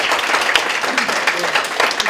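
An audience at a business-school graduation ceremony breaks into loud, dense applause, many hands clapping continuously and close, with faint crowd voices mixed in.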